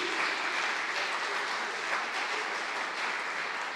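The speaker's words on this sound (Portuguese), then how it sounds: "Aplauda ao Senhor." A church congregation applauds in praise during a worship service, a steady, dense wash of many hands clapping that holds at an even level throughout, with no talking over it.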